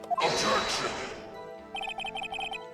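A phone rings in short repeated bursts, preceded by a loud crash, with a voice heard over it in an Ace Attorney Trilogy game.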